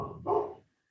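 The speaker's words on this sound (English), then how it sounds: "there's like a dog barking. I don't know if you can hear that" A single muffled dog bark, short and not very loud, fading out into silence.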